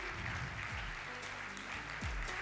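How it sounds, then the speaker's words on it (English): A crowd at a conference closing ceremony claps steadily, a dense continuous patter of many hands heard from a distance. "give a big applause to all the teams, the students"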